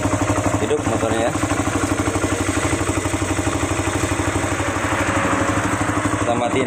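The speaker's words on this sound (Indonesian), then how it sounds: "hidup motornya ya" A Honda CBR 150 motorcycle engine, old model with hard-starting and stalling trouble, idles steadily close by with a fast, even chugging pulse and metallic clatter throughout.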